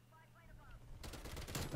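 A strafe run killstreak in a shooter opens up after a quiet moment: a sudden heavy barrage of rapid gunfire, loud and dense for the final stretch.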